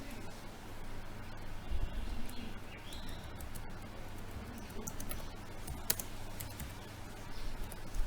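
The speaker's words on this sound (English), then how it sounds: "here I can type the question." Quiet keystrokes on a computer keyboard tap irregularly over a low background hum, soft clicks scattered across the whole stretch.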